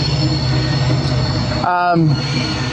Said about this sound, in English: The train's going by, and their brakes are squealing.